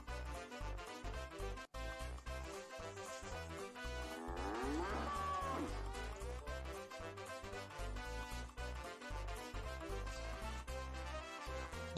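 A cow moos in the video game Earthworm Jim HD, a long, drawn-out call heard over loud, busy game music throughout.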